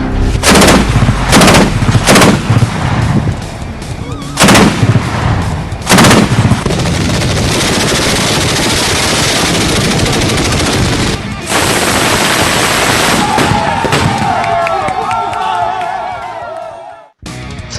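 A Chinese-made Norinco Type 80 Giant Bow anti-aircraft gun, crewed by Indonesian army air-defence troops, fires several loud bursts, then gives way to a sustained roaring barrage of close, heavy gunfire.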